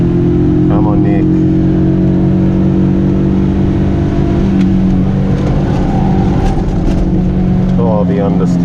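A stock Toyota Corolla AE71 with a 4AC engine revs hard while drifting, its loud, continuous droning roar rising and falling up close, with voices faintly under it.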